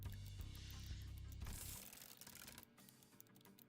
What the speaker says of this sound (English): Sounds of fingers tapping on a keyboard and pen tip scratching.